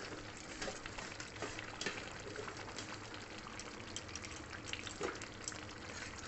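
Pomfret fish curry being stirred in a pan with garam masala and coriander leaves, a steady soft sizzle and bubbling with faint scraping movements throughout, quiet and close.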